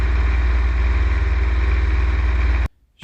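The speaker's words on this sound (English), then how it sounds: "the throttle is brought back slightly just to ease the pressure on the engine" Light aircraft piston engine throttled back slightly during the climb, a steady close-up drone with a pulsing low rumble that cuts out abruptly near the end.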